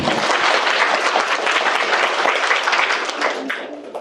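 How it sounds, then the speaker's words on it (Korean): An audience of mothers at an education seminar in Busan claps warmly and steadily at close range, dense applause that holds for about three seconds and then thins out toward the end. "박수 한번 주세요."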